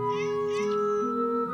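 A cat meows twice in quick succession, short plaintive calls heard close up over a steady background tone.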